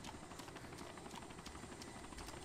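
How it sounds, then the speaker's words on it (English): Helicopter in the video game Arma II idling before moving off, a steady whirring rotor drone with faint rhythmic blade pulses, continuous and at moderate distance throughout. "the helicopter is about to move off, I think"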